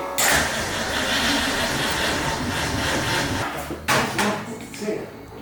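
A supercharged 1965 Ford Mustang engine cranks on its starter without catching, a steady loud churning whir that breaks off briefly near the end; a voice is faintly audible underneath.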